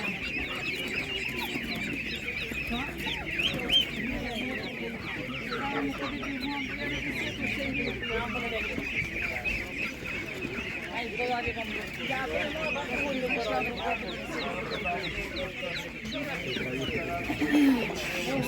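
Chickens and ducks at a village livestock market cluck continuously as a dense flock, with people talking and haggling throughout.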